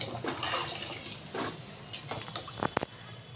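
Water poured into a pan of chicken curry, a few bursts of splashing and gurgling liquid followed by short clattering taps, fairly quiet and close.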